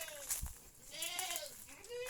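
Young goats bleat on a goat farm, several wavering cries in a row, close by and fairly clear, with someone talking over them.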